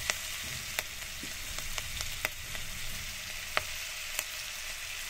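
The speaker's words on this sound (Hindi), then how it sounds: "जीरा हमारा भुन चुका है तो अब हम इसमें हरी मिर्च डालेंगे।" Green chillies frying with cumin seeds in melted butter on a medium gas flame, a steady moderate sizzle with scattered sharp pops and crackles throughout.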